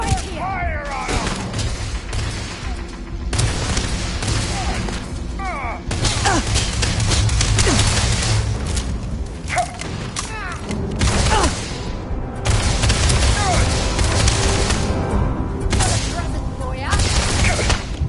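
Gunfire in the Starfield video game, rapid volleys of shots and booms in repeated bursts throughout, loud and close, with shouted voices and combat noise mixed in.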